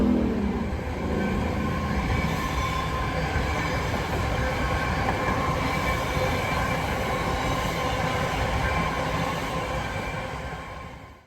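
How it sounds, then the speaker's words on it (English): A BART train rolls past alongside Linear Park, a steady loud rumble of wheels and cars sustained for about ten seconds before easing off at the end, with no voices. "So you get to see trains pass."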